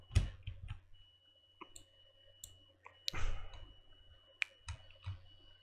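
Several sharp computer mouse clicks are scattered across a quiet room, close and crisp, with a few louder clatters between longer pauses and no talk over them.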